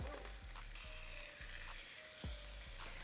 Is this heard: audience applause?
no